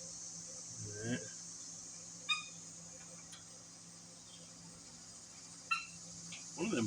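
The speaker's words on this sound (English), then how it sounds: "One of them chickens sounds like a squeaky toy." Chickens give brief, faint squeaky-toy squawks, a few short calls spaced out over a low steady hum in a workshop setting.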